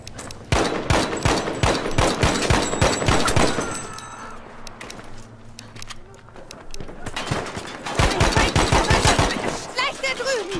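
Rapid M1A1 carbine gunfire in a video game, loud repeated shots in fast bursts, a lull with lower rumble in the middle, then another burst of firing and voices.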